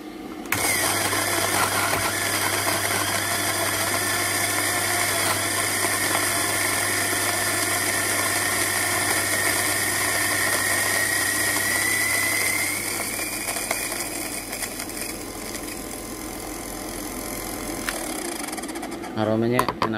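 Electric coffee grinder works through seven grams of coffee set to a fine 1.5 grind, a loud steady whirring buzz close by that pitches up, fades slightly near the end, then stops.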